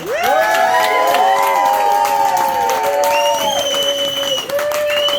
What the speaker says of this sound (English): I'll get one big round of applause for you guys.